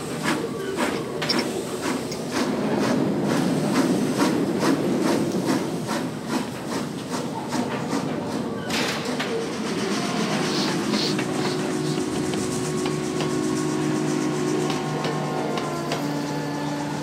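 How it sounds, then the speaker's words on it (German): A train runs in the video game Abe's Exoddus, a continuous rumbling roll with rhythmic clicking and hissing mechanical texture that holds steady throughout. "Und hier ist der Zug."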